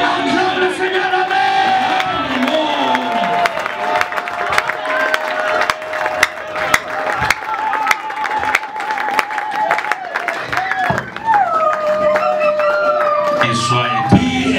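A church congregation at an anniversary service acclaiming the Lord with clapping, cheers and whoops, sustained and lively over a voice singing or shouting above the crowd.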